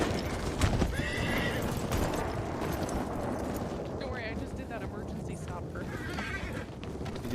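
Hooves clip-clop alongside loud horse whinnies in a western roleplay video game, close and busy, with people talking over them throughout.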